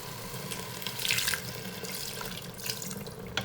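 Water pouring into a pot of basmati rice for chicken pulao in an Instant Pot, a steady close splashing stream with a brief louder surge in the middle, no talking.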